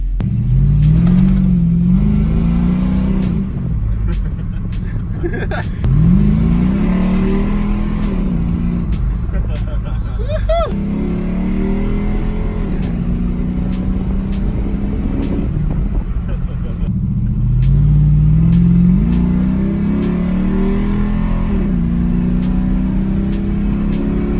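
A Dodge Dakota pickup's engine revs loudly as it drives. It climbs through repeated acceleration sweeps, drops at each gear change, and keeps a steady road roar in between.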